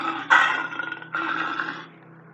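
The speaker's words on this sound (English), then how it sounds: "The lion roars." A lion roars in a kids' wild-animal sound game: two deep, close, loud calls, each with a strong onset, trail off over about two seconds, with nobody talking.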